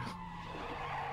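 A vehicle in PUBG skids under a hard handbrake, a sustained squealing tire slide with engine hum, loud and close, no talk over it.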